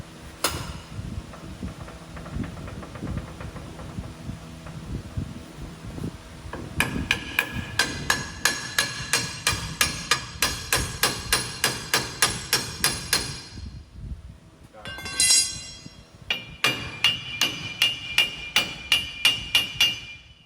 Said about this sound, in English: just do a little bit at a time while tapping in the axle, and hopefully it will go the rest of the way home